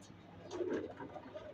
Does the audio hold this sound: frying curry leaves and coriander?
no